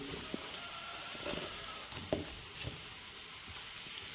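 Onions frying in a pan for tomato curry, a soft, low sizzle with a few faint clicks of stirring, fairly quiet and steady, with no talk.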